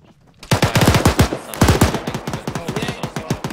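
Rapid automatic gunfire in the military game Arma 3 rattles off in dense, loud bursts, with a short pause near the middle before the firing resumes at a steadier pace.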